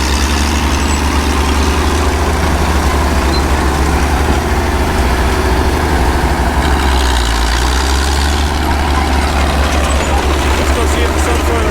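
Diesel engines of Cat dozers, a Cat 955, a D5 pulling a scraper and an IH tractor with a subsoiler run in a pit. A loud, close, continuous low rumble drones throughout, with a voice talking over it.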